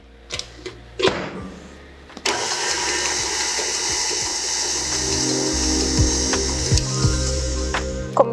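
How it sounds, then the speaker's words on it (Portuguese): A stand mixer blends dry cookie ingredients with a close, continuous whirring hum that starts after a few knocks and clatters and runs steadily to the end, with occasional sharp clicks and no speech. "Eu vou ligar a batedeira para os secos se incorporarem, homogeneizarem"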